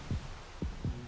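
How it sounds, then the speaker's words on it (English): Low, thumping heartbeat pulses from the video game Yomawari: Night Alone, three slow beats in about a second over a steady eerie hum, with no talking. "Oh, you hear the heartbeat."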